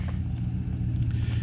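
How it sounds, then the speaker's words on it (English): Engine of a 2019 Ram Rebel 1500 pickup with eTorque starting up and idling, a steady low rumble heard from a short distance, fairly quiet, with no talk. "You can hear his truck starting up."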